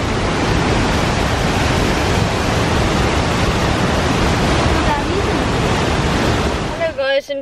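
Loud, steady rush of a waterfall on a holiday in Wales, a dense continuous roar close by that fills the whole stretch, with a brief voice breaking in at the very end.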